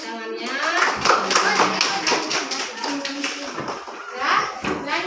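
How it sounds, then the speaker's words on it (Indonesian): A classroom group applauds with brisk clapping and scattered taps, mixed with children's voices talking over it, lasting several seconds. "Nah, tepuk tangannya."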